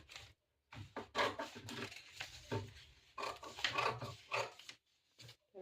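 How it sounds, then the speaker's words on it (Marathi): Scissors cutting a cross strip from blouse fabric, a series of close, quiet crunching snips in irregular bursts separated by short pauses. "अशी क्रॉस पट्टी कटिंग करून घ्यायची जशी आखवली आहे तशी"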